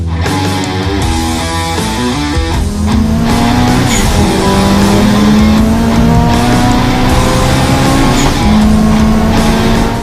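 A turbocharged Honda Civic D16Y engine on its first run-in drive revs and pulls hard through rising gears, loud and close, with a steady drone and climbing pitch throughout.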